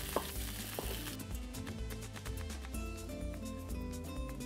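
Spiced kofta meatballs fry in a pan with a loud, continuous sizzle, heard close up with scattered crackles and stirring, and no voices.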